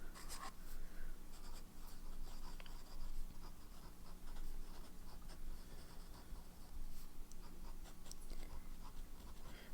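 A pen scratching across paper with bottled ink, a steady faint scratchy texture of small strokes running continuously and close up, without talk.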